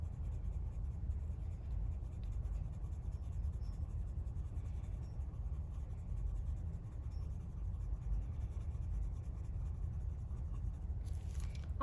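A colored pencil shades paper in small circles, a soft continuous scratchy rasp that stays steady and even for the whole stretch, close and quiet with no talking.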